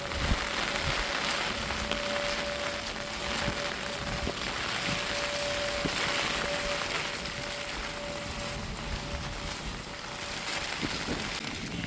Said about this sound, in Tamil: ரெண்டு நாள் அடித்து ஊற்றுன மழை தான் ஊற்றிக்கிட்டே தான் இருக்குது